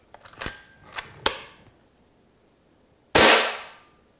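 A Beeman HW100 PCP air rifle fires pellets: a few quick, sharp clicks and cracks come first, then after a pause one louder, crisp shot with a short fading tail. No voices are heard.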